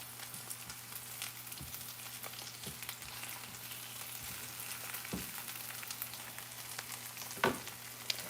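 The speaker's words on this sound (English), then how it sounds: "We're just crisping up our sausage." Sausage crisping in a frying pan, a soft steady sizzle with occasional faint pops and one louder clatter near the end, fairly quiet and without talk.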